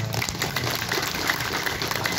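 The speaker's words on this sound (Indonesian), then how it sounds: "Ya, ini tepuk tangan dulu." A crowd at an indoor gathering breaks into applause, a steady, moderately loud patter of many hands clapping throughout, with no clear voices over it.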